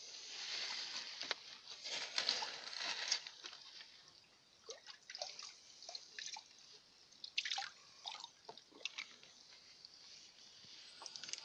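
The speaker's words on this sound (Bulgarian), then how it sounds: "Сега напълня го пак с вода." Water trickles and drips into a container being refilled, an uneven close splashing and pattering that swells and fades in bursts.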